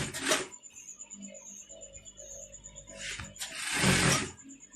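Brief bursts of a sewing machine stitching fabric for an Owoko garment with studs, each run a quick mechanical whirring chatter, with quiet gaps and a faint steady whine between the bursts.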